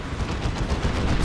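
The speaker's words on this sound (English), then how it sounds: "There's the big chem cannon shot." A big chem cannon fires in the Warhammer 40k strategy game Dawn of War 2 during a 3v3 match, producing a dense, loud rumbling blast that stays steady through the short burst.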